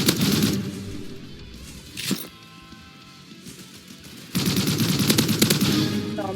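Gunfire from a first-person shooter video game: loud close bursts of rapid shots at the start and again at the end, with a single sharp shot and a quieter lull between them, and no talking.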